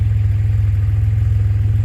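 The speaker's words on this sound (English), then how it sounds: "Car's been sat idling for a while." A 1969 MG MGC Roadster engine idles near operating temperature with a close, loud, steady low throb and an even pulsing rhythm.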